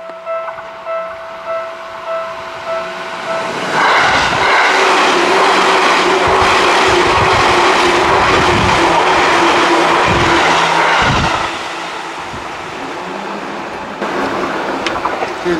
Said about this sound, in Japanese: 電車が通過してきたんですね。